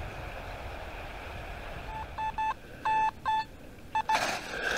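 A Simplex metal detector set to all-metal mode sounds over a buried spoon, giving a series of short, bright electronic tones in clipped bursts above a steady background hiss.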